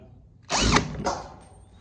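A power screwdriver fitted with a steel drill bit drives a screw, giving one loud whirring burst of about half a second, then a shorter second burst that fades out.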